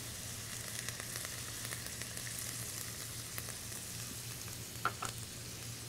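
Tomato cream sauce simmers in a pan alongside turkey, a soft, steady sizzle and bubbling heard faintly with a low hum beneath and a couple of light clinks near the end.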